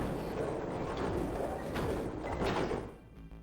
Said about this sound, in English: and the gate creaked open.